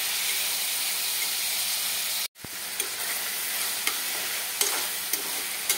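Vegetables frying in oil in a pan, a steady broadband sizzle that runs throughout, broken by one brief dropout near the middle, with a few faint clicks from stirring.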